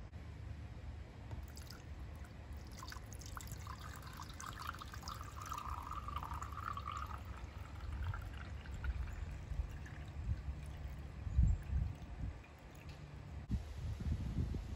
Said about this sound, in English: I'm going to be taking out this divider and pour it in for you to see.